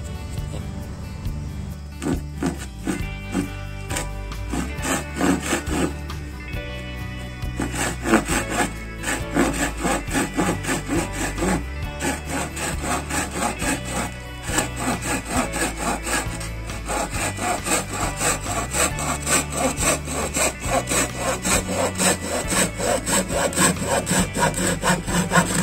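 A hand saw cuts through a wooden slingshot handle: steady, rhythmic rasping strokes repeat loudly and continuously, close by, with no talking.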